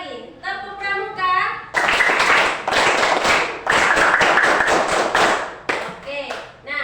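An Indonesian primary class claps the tepuk pramuka scout rhythm in a loud, energetic, patterned volley of many hands close by, following a short spoken cue from the teacher.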